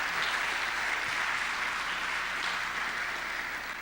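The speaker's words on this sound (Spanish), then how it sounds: "¿Podemos darles un aplauso? ¿Sí? Un fuerte aplauso." A church congregation gives a strong round of applause, a thick, even wash of clapping from many hands that fills the whole moment without pause.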